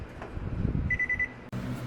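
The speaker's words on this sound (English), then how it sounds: "There's the beeping sound. It's gonna turn off the oven automatically." A quick series of about five short electronic beeps from an oven timer as the oven shuts off automatically after baking cinnamon buns, moderately loud, followed by a brief click and low background noise.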